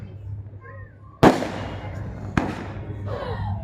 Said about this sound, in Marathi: फटाके संपले असतील तर आता आपल्या सर्वांना ऐकू येईल